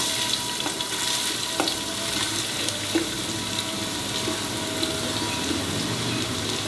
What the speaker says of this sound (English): fry till it becomes translucent and slightly brown